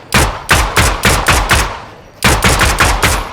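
Rapid bursts of gunfire in the video game Fortnite, loud and close, with a steady run of evenly spaced shots, a short pause, then another quick volley.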